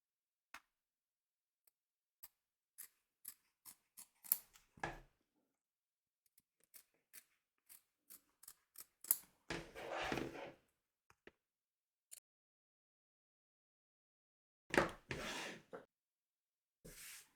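Scissors snipping around the edge of a machine-embroidered Halloween kitty wing, a string of short, crisp cuts at a steady pace, close and fairly quiet, with brief pauses between bursts and no talking.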